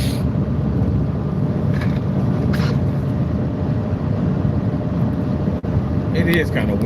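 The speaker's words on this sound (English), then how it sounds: "is kind of windy though." Heavy wind buffeting while riding in a car, a loud continuous roar and rumble close to the microphone throughout.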